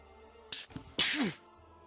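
A single sharp sneeze, a quick intake followed by a loud explosive burst, against a quiet background.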